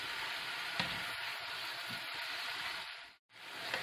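Green beans and cabbage fry with spices in a pan for a vegan achard, giving a steady, close sizzle broken by a few soft scrapes of stirring and one brief pause.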